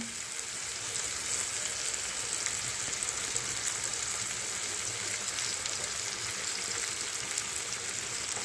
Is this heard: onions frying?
yes